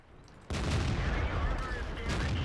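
A tank cannon fires in the World of Tanks video game, one loud, close boom that cuts in suddenly after a quieter stretch and then keeps rumbling steadily to the end.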